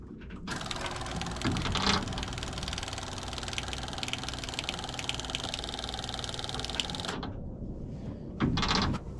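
A Fiat Allis loader engine being cranked with the key, a continuous mechanical chugging and clatter for about seven seconds, then a brief pause and a short second burst of cranking at the end.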